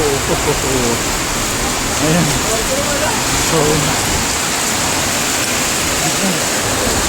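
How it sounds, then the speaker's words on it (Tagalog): Sudden heavy rain during a storm in Cotabato, a dense, loud, steady hiss of downpour filling the whole stretch, with a person speaking briefly underneath. "biglang lakas ng ulan"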